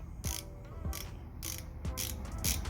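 A Torx 10 screwdriver turns screws out of a VW Golf R Mk7 Haldex pump, making a close, quiet run of ratcheting clicks in evenly spaced bursts.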